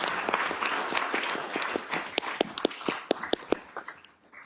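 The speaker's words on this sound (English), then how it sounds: "Please join me in a round of applause and congratulations to Dutch on a well-deserved retirement." Applause breaks out at a county legislative session as members honor a colleague's retirement, with a dense wash of clapping that thins into scattered sharp individual claps before fading out.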